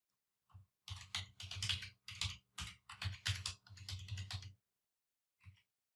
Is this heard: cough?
no